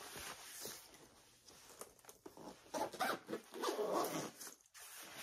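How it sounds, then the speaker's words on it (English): A zipper runs along a puffy laptop sleeve for a 13-14 inch laptop, with a few short rasping pulls and a longer, louder zip near the end, close and clear with soft handling noise. "I'm going to go ahead and fully zip it."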